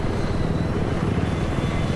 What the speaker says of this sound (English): No, I didn't get in the helicopter. It's flying around by itself.